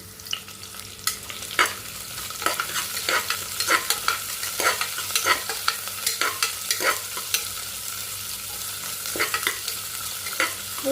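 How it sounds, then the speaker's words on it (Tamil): Dried red chillies sauté in a hot pan, with a continuous close sizzle broken by frequent scraping stirs of a spoon against the pan, and no talking. "நான் வர மிளகாயும் சேர்த்துக்கிறேன் நல்லா வதக்கி விட்டுக்கலாம்"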